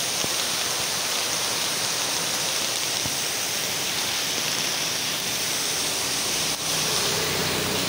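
A monsoon waterfall at Charmadi Ghat, running lower than usual, pours in a steady, loud, unbroken roar heard close up without voices.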